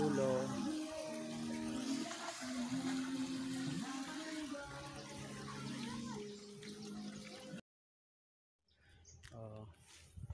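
Water from an artificial waterfall at the end of a 4-foot-deep swimming pool rushes and splashes steadily, with voices talking over it, then cuts off abruptly before brief noise returns.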